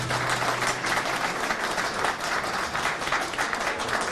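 Dense, steady audience applause during a political speech, a continuous wash of many clapping hands at full strength with no voice over it.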